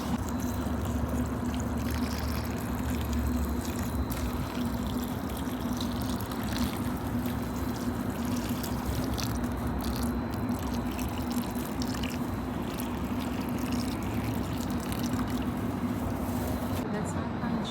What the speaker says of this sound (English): I'm gonna water my palm tree